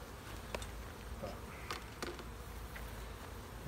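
Faint, steady insect buzzing drifts through a weak, sparsely populated beehive, a thin hum under a few soft taps and clicks from nearby handling.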